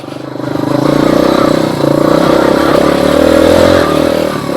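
A Skybike Liger 2 motorcycle climbs over concrete slabs and up a hill, its engine droning steadily with rising revs and some clatter, loud and close throughout.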